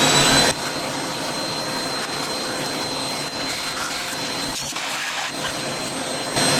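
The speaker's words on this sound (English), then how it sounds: "With one hand the hoover and one hand dislodging the brush stuff" A hoover sucks dust out of the fan and vents of a Dell XPS One A2010 all-in-one computer while a brush loosens the debris, making a steady, loud, close whine that drones without a break.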